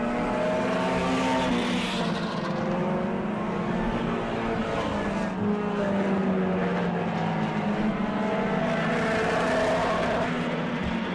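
Race cars roar past together in a heat race at the Auburndale season opener, a loud continuous engine drone with rising and falling pitch as the field sweeps around toward the white flag.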